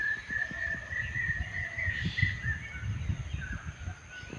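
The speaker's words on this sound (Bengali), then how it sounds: "সকালে পাখির কিচিরমিচির শব্দ" Birds call in the morning outdoors among fruiting jackfruit trees in Kapasia, a sustained whistling note running over soft rhythmic cooing pulses, moderately near and continuous without talk.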